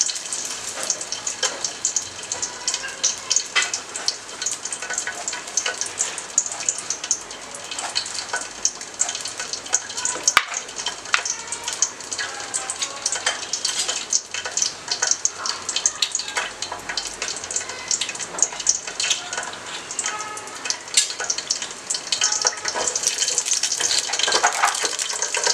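Bay leaf, cinnamon and cloves crackle in hot oil at the start of a chicken dum biryani, a loud, steady, close hiss with dense spitting crackles throughout.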